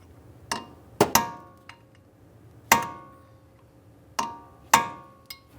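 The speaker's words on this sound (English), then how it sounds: "We'll continue with our hammer and punch, drive this down and in." Sharp metallic hammer strikes on a punch, peening a front axle nut into its shaft slot on a 2006-2012 Ford Fusion, six ringing blows in uneven pairs and singles, close and loud with short decays.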